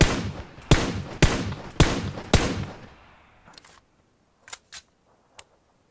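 Single-fire shots from a gun in a shooter video game: four sharp, loud cracks spaced roughly half a second apart, each with a decaying tail, then a few fainter distant pops.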